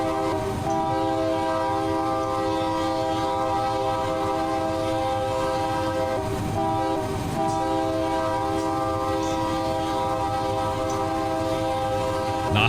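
Locomotive in the Run 8 train simulator running steadily, a continuous loud engine drone with strong tonal harmonics and a sustained horn-like tone throughout, no talking.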